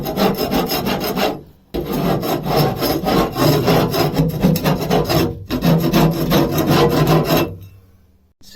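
A steel narrowboat surface being scraped of rust with a hand scraper: close, loud, continuous rasping strokes in three long bursts separated by brief pauses, with no voices.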